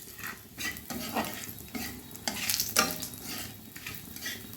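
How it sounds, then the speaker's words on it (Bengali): Whole dried chili, cardamom, cinnamon, cloves and bay leaf fry in oil with a steady close sizzle, broken by rhythmic scraping strokes of a utensil stirring in the pan. "এই ফোড়নটা একটু ভেজে নেব"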